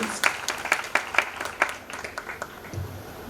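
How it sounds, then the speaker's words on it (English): A room of conference attendees at a nursing event claps, the applause fairly faint and scattered with a few crisp nearby claps, then fading out near the end. "we have a big round of applause for Rashmi ma'am and all the panelists."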